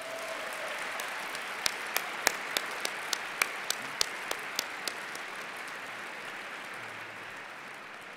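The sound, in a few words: audience applause for the faculty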